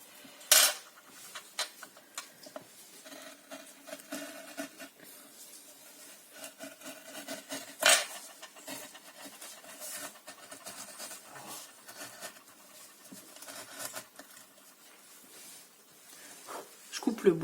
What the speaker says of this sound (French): Je coupe le bois.